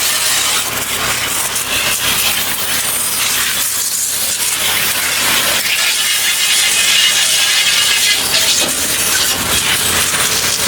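A pressure washer sprays water from its hose at full pressure, giving a loud, steady broadband hiss with no pauses and no voices.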